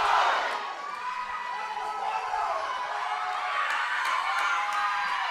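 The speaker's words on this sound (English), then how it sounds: "The crowd is fired up." A fired-up crowd at a women's 84+ kg heavyweight deadlift competition cheers and shouts continuously, a dense roar of voices rising again near the end with sharp whoops.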